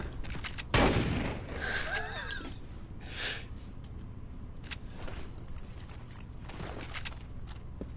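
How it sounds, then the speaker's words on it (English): Gunfire in Resistance: Fall of Man: a loud burst near the start, then scattered shots and whooshing effects over a steady rumbling background, without clear speech. "Stop shooting."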